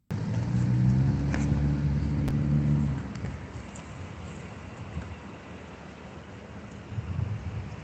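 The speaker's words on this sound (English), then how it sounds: "The car is being towed." A car idles with a low steady rumble under wind noise during a roadside traffic stop where it is being towed, louder for the first few seconds and then dropping to a quieter hum.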